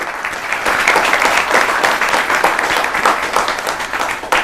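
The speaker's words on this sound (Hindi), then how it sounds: "तो एक बार जोरदार तालियां बजाइए आपके बीच में डॉक्टर ममता वासने के लिए" A large audience gives hearty, continuous applause for a poet at a Holi poetry gathering on a news stage, loud and dense throughout with no voices over it.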